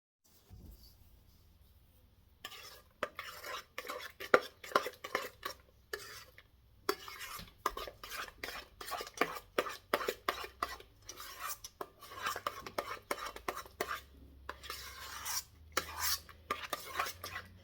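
A spoon scrapes and clacks around a bowl as potato salad is mixed, a rapid, uneven run of close, moderately quiet strokes after a brief near-silent start.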